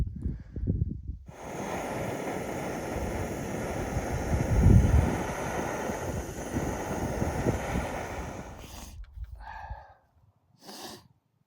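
Wind gusting outdoors on a walk in the Lake District, buffeting the microphone as a steady, loud rushing roar that swells and drops for several seconds before cutting off abruptly, followed by a few brief close rustles.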